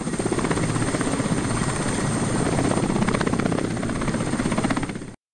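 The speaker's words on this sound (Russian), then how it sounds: "Преодолев по воздуху на вертолете почти 600 километров на юго-запад от Салехарда" A helicopter flies some 600 kilometres southwest of Salekhard, its rotor making a loud, steady, close chopping drone throughout before it cuts off abruptly.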